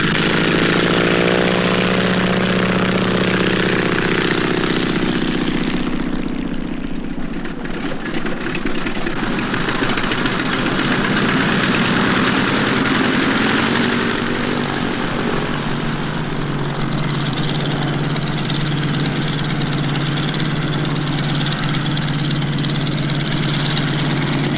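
A barnstorming airplane's propeller engine runs loud and close with a constant droning hum for the whole stretch, its pitch shifting slightly partway through.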